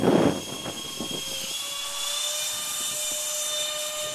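A scratch-built YC-14 ducted fan RC park jet flies high overhead, a steady whining turbine-like drone with rising tonal whistles, fairly distant and continuous with a brief gust of wind noise at the start.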